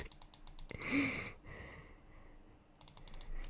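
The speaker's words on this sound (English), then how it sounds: "I'm just gonna keep clicking this" Rapid mouse clicking while playing the Cookie Clicker browser game, a dense run of quick, close clicks that swells loudest around the first second and carries on more softly, with no talking.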